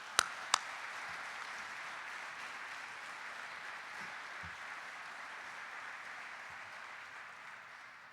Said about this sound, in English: Would everyone please join me in giving a round of applause to the families?